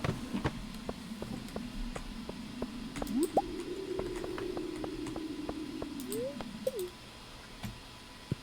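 A watering can in the farming video game Stardew Valley pours onto crops, giving soft squishy splashes and drips in quick repeated bursts alongside small game chimes and sliding tones, quiet and with no speech.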